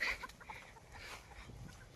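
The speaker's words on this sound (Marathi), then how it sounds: "हे बघा किती मस्त गावठी कोंबड्या आहे सर्व" Native village chickens cluck softly and irregularly at a faint, mid distance, with scattered farmyard noise and no talking.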